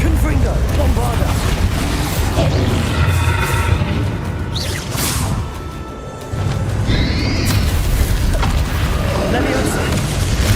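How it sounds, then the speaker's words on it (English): Bombarda and Confringo spells explode in the game Hogwarts Legacy, with booming bursts and crashing impacts set against game music and mechanical effects, while someone repeatedly speaks over the action. "Confringo, Bombarda."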